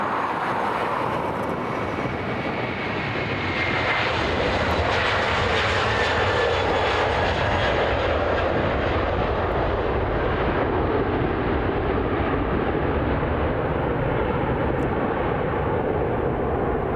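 A 15-year-old Aer Lingus airliner takes off from Dublin Airport bound for Chicago, its jet engines a loud, sustained roar that swells and rumbles steadily throughout, heard from the ground with no talking.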